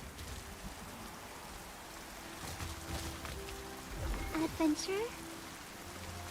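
Steady rain patters down in the online game Throne and Liberty, a constant soft hiss running under a voice and a short game dialogue line.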